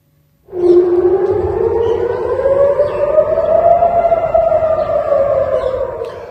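A loud air-raid style rocket warning siren in central Israel wails steadily, its pitch slowly rising and then sagging, sounding alone and unbroken after a sudden start.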